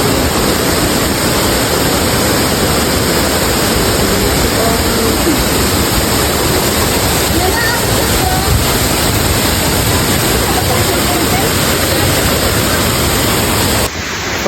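Tagbibinta Falls in Maragusan roars as a steady, loud, broadband wash of falling water that goes on without a break, with faint voices partly buried beneath it.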